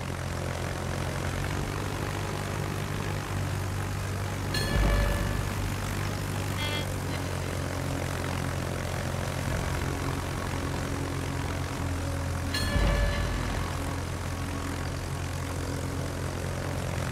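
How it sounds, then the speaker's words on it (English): Propeller fighter aircraft flying in the naval battle game World of Warships, a steady droning engine hum throughout with two brief louder thumps, over faint background game noise and no talk. "Fighter airborne."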